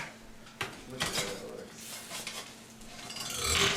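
Metal pans clank and scrape as heavy baked Easter pizzas are lifted out of them, with a few sharp knocks and rattles at close range and no voices.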